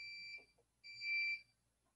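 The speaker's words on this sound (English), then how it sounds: "You hear the GFence 600 module beep." A G-Fence 600z security module beeps twice in quick succession, each a clear, high-pitched electronic tone, the second longer than the first, against a quiet background.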